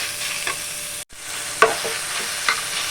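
Grated beetroot fries in a pan with a steady close sizzle, broken by several spoon-stirring scrapes and clinks.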